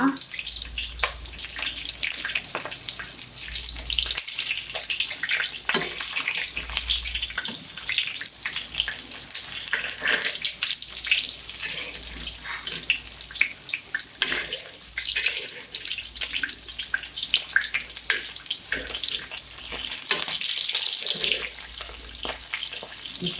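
Mackerel (bangude) coated in rava frying in oil in a pan, a continuous rushing, watery hiss with scattered crackles, close and fairly loud, and a voice speaking intermittently over it.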